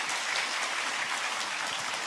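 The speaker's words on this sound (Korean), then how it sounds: "격려의 박수 한번 부탁드리겠습니다" A church congregation at a Christmas Day service gives applause of encouragement to its younger generation; steady, dense clapping from many hands fills the room for about two seconds, with no talking heard.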